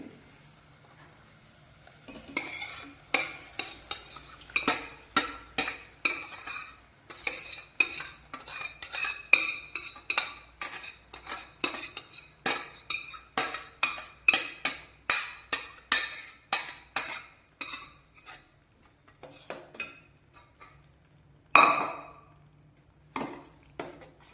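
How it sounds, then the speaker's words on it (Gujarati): A spoon stirs boiled lentils in a pan for a tempered dal fry. It gives a long run of sharp, rhythmic metal clinks and scrapes over a faint sizzle, close and clear, with no voices. "હવે આપણે જે દાળ બાફી હતી તે આની અંદર ઉમેરી દઈએ."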